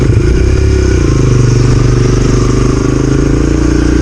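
Dirt bike engine running steadily as the rider makes a U-turn on a trail, a loud, close, continuous buzzing drone with slight rises in revs and no talking over it.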